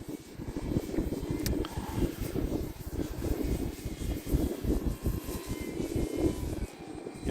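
Arrows Husky Ultimate RC airplane flying on a windy day, its electric motor droning and fluctuating as it passes, fairly loud with gusting wind noise underneath.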